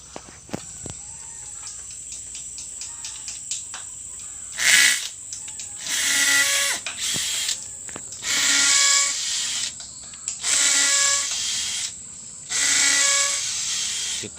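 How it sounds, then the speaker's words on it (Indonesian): A small drill bit boring into agarwood, heard as several short bursts of high-pitched drilling separated by pauses, close and moderately loud, with faint ticks and handling noises between them and no talking. "Kita pakai mata bor kecil aja sobat"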